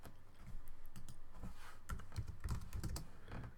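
Computer keyboard typing in a shell session, a run of quick close clicks and key taps with a few heavier strokes, steady and alone with no talking.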